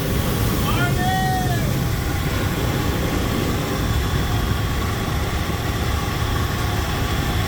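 A 1965 Chevy Olson Kurbside step van idles a little high with a steady low engine rumble. A brief whistling chirp sounds near the start, and talk comes over it.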